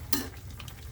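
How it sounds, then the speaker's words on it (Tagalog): Broccoli stir-fries in a hot pan, a brief scrape of stirring with a soft sizzle underneath, quiet and close, lasting under a second. "ayan na ang ating stir fry broccoli"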